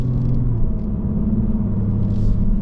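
A 2022 Lexus RC350 F Sport on Mt. Hamilton Road gives a steady low engine drone with a faint thin whine running above it, heard from inside the car, continuous and even throughout.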